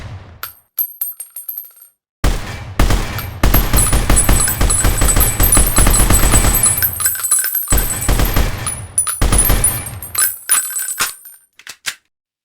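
Rapid automatic gunfire from a Unity FPS game comes in loud, dense bursts: a few single shots, then two long sustained volleys separated by a brief pause, with tinkling casing-like clinks over the top.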